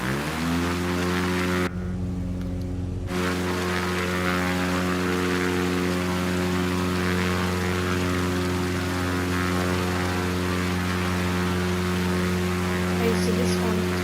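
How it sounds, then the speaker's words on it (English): A video-game propeller plane roars steadily as it takes off from an aircraft carrier, a loud, continuous droning engine hum with a brief dropout early on. "So this one took off, not the smoothest takeoff"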